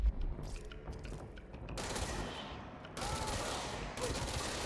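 A gun in the video game Control fires in rapid bursts, a sharp onset and then dense sustained volleys of shots that break into several loud stretches.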